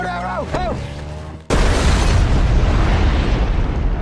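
A bomb stuck to a car in a traffic jam goes off as a cinematic explosion: a brief tonal, voice-like sound, then a sudden loud blast that rolls into a sustained roaring rumble.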